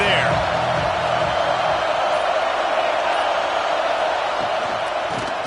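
Steady roar of a college football stadium crowd at NC State vs Boston College, loud and continuous throughout, with a commentator's voice faintly mixed in.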